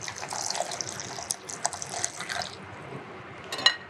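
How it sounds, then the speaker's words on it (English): Just-boiled hot cream streams over chopped chocolate in a bowl for devil's food cake ganache, a soft steady liquid pour with light splashy patter that tapers off, ending in a small clink, close up and without talk. "So the cream has just come to a boil. Pour it right over the chocolate."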